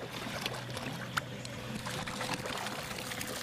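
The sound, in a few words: big waves against fishing boat on San Francisco Bay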